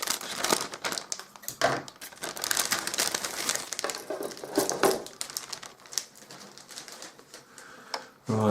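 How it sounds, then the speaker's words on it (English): Plastic bags holding parts of a Zvezda 1/35 BM-21 Grad model kit being cut open, with close crinkling, snipping and rustling in irregular bursts. "If Gav can actually cut them open"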